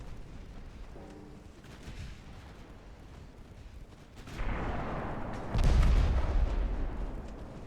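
Naval main guns fire in Ultimate Admiral Dreadnoughts, a rumbling artillery barrage that builds partway through into a heavier sustained roar, with one especially loud, deep blast near the end.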